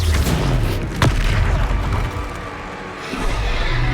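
A Confringo blasting spell bursts in Hogwarts Legacy gameplay, giving one sharp boom near the middle of a dense layer of game sound effects and music.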